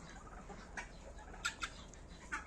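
A young turkey on a backyard farm gives a few short, faint chirping calls, about four brief peeps spaced over a couple of seconds against quiet outdoor background noise.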